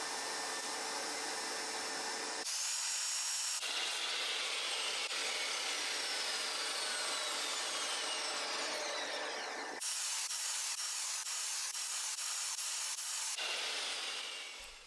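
Wooden trim pieces being cut with a power saw during a restoration, loud hissing cutting bursts that start and stop in several long runs.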